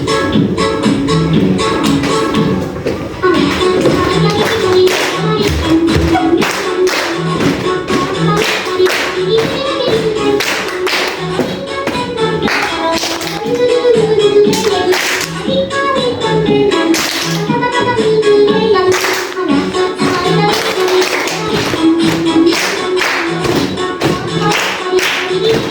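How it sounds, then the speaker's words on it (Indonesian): Teachers clap in a steady rhythm while seated, following along with music; sharp, evenly spaced claps sit over a continuous musical backing throughout. "tepuk tangan lagi sedikit"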